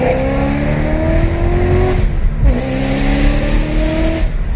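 A supercharged BMW E92 M3 fitted with an ESS G1 kit revs hard at full throttle, its engine note climbing loud and close, dipping briefly midway, then surging up again.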